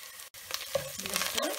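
Ginger garlic paste and turmeric powder frying in a pan for brinjal masala, a short burst of sizzling with a spoon scraping through it, close and fairly quiet, no talking.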